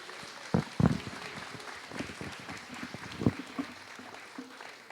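An audience at a fashion college graduate runway show applauding its graduate speakers, a soft, fairly distant patter of clapping with a few louder claps near the start.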